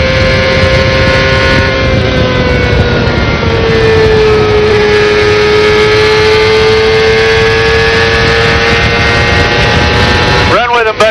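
A CART race car engine roars onboard with Vasser at the Miami Grand Prix, a loud continuous high-revving drone whose pitch holds and shifts, ending in a sharp downshift blip, with radio chatter mixed in.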